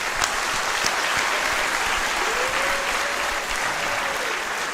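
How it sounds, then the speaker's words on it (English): Applause for a staff member at a senior awards ceremony, a full and even roll of clapping from a large room that stays loud and constant throughout with no talking. "If we can give her a quick round of applause, I'd appreciate it."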